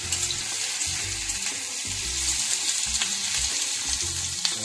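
Capsicum frying in a pan for chilli chicken, a steady close sizzle of hot oil with intermittent stirring scrapes and knocks against the pan, no talking.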